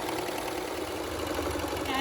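A Baby Lock Celebrate serger sews fabric, giving off a fast, continuous mechanical whir that stays steady and close throughout.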